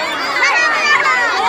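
A large crowd of thousands gathered at a land rights protest in Bihar, India, heard as a continuous dense murmur of many voices and shouts, loud and close, with overlapping chatter throughout.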